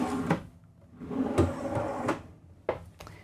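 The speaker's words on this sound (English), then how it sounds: "We also have these full extension soft close drawers in this little" Full-extension soft-close drawers in a motorhome's kitchen island slide open and shut several times, with rolling glides and soft muted thuds as they settle, close and fairly quiet.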